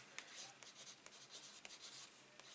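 Pencil scratching across cardstock in quick short strokes, faint and close, with a soft rubbing texture and small ticks between marks.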